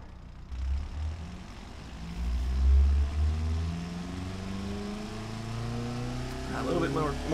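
A recreated Toyota MR2 engine in the Automation car-building game fires up and climbs through its revs. Rising harmonic tones sweep upward over a steady, loud mechanical drone that keeps going to the end.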